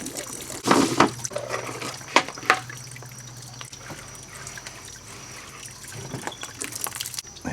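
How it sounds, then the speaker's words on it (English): Water drains from a pool filter canister during pump winterizing, a close trickling and gurgling rush that is strongest early on and settles into a softer, steady flow. "Okay, now we'll drain the canister."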